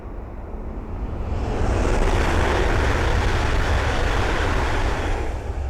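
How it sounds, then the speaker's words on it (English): An East Midlands Railway Meridian running from Sheffield to London St Pancras rushes past on the Midland Main Line at Ayres End Lane, a broad roaring wash that builds quickly and holds loud and close. "I can hear Eastman's Railway Meridian coming through from Sheffield to London St Pancras"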